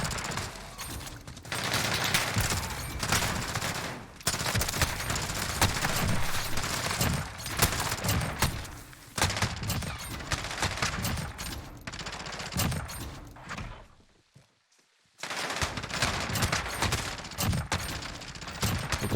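Nearly nonstop automatic gunfire in a shooter video game, loud and dense rapid fire sustained throughout with brief gaps and one short near-silent pause before firing resumes.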